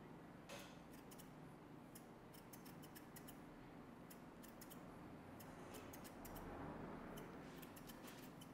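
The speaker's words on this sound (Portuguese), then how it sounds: "Agora a sombra e o peso eu vou tirar com a tesoura dentada." Thinning scissors snip through a man's hair during a haircut, quick clusters of sharp metallic clicks in irregular bursts, close and quiet over a soft background hiss.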